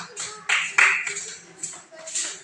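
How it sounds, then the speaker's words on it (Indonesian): Brief scattered hand claps from a small group, a few sharp bursts with quiet gaps, close by and fading out quickly. "berikan tepuk tangan buat teman saya Mesta"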